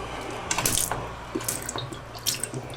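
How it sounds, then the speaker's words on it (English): Foot valve for the water tank on a C-Dory boat being worked, giving faint splashing water and clicking mechanical ratchet-like sounds in short bursts, close by and without speech. "that's your foot valve for your"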